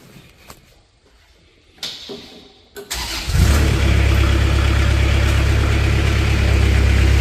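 A 2014 Moffett M55 truck-mounted forklift's engine cranks over after a few quiet clicks and fires up, settling into a loud, steady idle that holds close by inside a shop.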